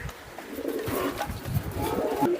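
Racing pigeons coo softly in their loft, low throaty repeated calls at close range over a quiet background.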